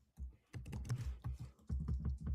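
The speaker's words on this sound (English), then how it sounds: "I hear producer Joe typing furiously." Rapid, furious typing on a computer keyboard by a show producer, close and quiet, dense clusters of key clicks with brief pauses between bursts.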